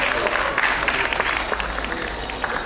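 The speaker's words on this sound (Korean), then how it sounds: "다시 한번 박수 부탁드립니다" Audience applause at a spring poetry recital follows a married couple's reading: close, dense clapping from a room of listeners, steady and fairly loud throughout.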